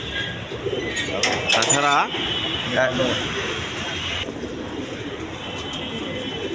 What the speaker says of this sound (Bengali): এইখানেও পাঙ্কি কবুতর আছে